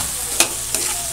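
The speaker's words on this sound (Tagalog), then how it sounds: "Haluin lang natin." Chicken thighs being stirred as they fry in their own rendered fat, continuous sizzle broken by two short scraping strokes of a utensil against the pan.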